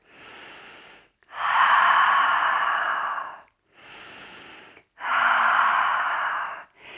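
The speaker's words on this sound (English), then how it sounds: "an exhale through the mouth like you're fogging up a mirror" Yoga breathing: a soft inhale is followed by a long, breathy open-mouth exhale like fogging a mirror, and the cycle repeats twice at an even pace, close and alone.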